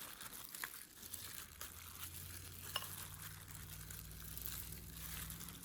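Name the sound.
mixing shrimps with black pepper and salt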